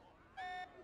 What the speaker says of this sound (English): This alarm's worrying.